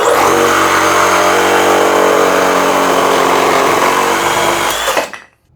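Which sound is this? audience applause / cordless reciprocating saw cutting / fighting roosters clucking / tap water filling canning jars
cordless reciprocating saw cutting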